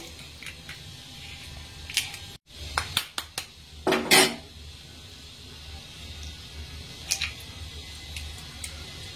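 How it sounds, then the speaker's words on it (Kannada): Two eggs cracked and beaten for an omelette, a handful of sharp clicks and taps against a bowl in quick succession followed by a brief run of whisking, close and fairly clear, with no talk. "ನಾನು 2 ತತ್ತಿ ಹೊಡ್ಕೊಂಡ್ಬಿಡೋನ್ರಿ."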